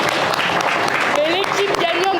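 Applause rises from an audience at a French debate event, a dense patter of clapping, with voices talking and exclaiming over it.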